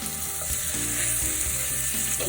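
Pork chops frying in olive oil in a hot pan, a loud continuous sizzle with steady crackling hiss and occasional stirring sounds, no voices.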